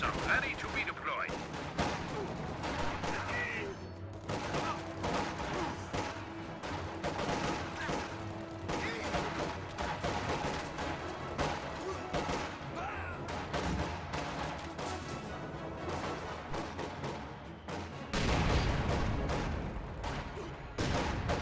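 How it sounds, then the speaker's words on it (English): Dense video game battle audio with a rifle grenade and constant gunfire, rapid volleys and machine-gun bursts crackling throughout at moderate loudness, with a heavier blast near the end. "That was a weird rifle grenade."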